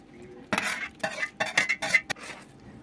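A vegetable salad of tomato and carrot is stirred in a cooking pot with a metal utensil, making a run of close, sharp scraping clinks in quick irregular bursts before it stops.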